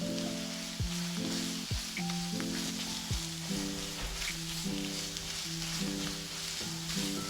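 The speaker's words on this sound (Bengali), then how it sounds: "আমি মোটামুটি চিংড়ি চিকেন সবই আগে ভেজে নেব" Prawns and chicken fry in a little oil in a pan for restaurant-style mixed fried rice, giving a steady, continuous sizzle that runs beneath melodic background music throughout.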